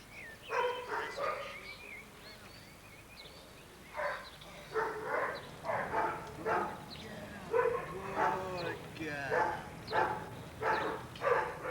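Several guide dogs bark in overlapping bursts in a large breeding kennel, echoing, with short pauses between volleys and a steady low background hum.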